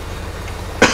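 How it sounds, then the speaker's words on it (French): A single short cough bursts out close by at the very end, after a quiet background hum. "j'arrête pas de tousser."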